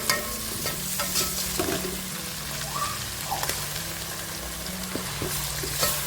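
Ginger and garlic sauté in a hot pan for banana flower biryani, a soft continuous sizzle with a few stirring scrapes and light taps, close and moderately quiet, with no voices.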